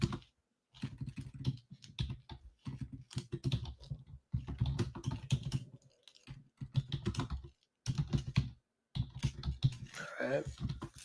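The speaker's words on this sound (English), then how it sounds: "I am going to get ready to type in our key levels on the VIX." Typing on a computer keyboard, close and crisp, in bursts of rapid keystrokes separated by short silent pauses.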